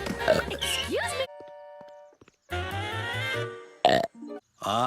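A small dog lets out several loud burps in quick succession, with short gaps and a voice speaking in between.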